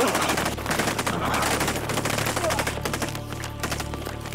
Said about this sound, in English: Everyone is firing live ammunition.